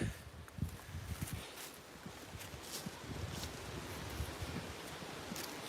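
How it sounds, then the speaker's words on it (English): Steady wind gusting across the microphone during a firewood delivery, with low rumbling buffets and a faint rustle, constant throughout with no voices. "Can you guys hear the wind?"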